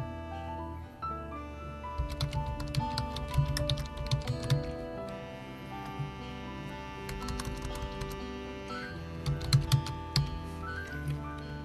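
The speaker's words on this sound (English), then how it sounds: "simply type in your easy username that you would like to use." A username is typed on a computer keyboard in quick irregular bursts of crisp close key clicks with short pauses between, no voices present.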